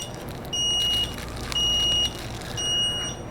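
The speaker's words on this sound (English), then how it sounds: "this is a good time to explain why it's beeping" Three loud, high electronic beeps from a Solax Transformer 2 electric scooter, each lasting about half a second and spaced roughly a second apart, over a low steady hum.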